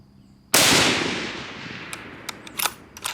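A Remington SPS rifle fires a single loud, close shot that booms and rings out for a couple of seconds, followed by a few faint clicks and handling noises.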